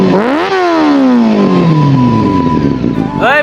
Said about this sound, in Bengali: তুমি যে মোটরসাইকেলে সাইলেন্সার লাগে বিকট শব্দ করে বেড়াও